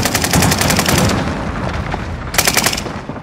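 Rapid automatic gunfire in Call of Duty: Modern Warfare, loud and close, with a dense burst at the start, a calmer stretch of scattered shots, then another sharp volley before fading.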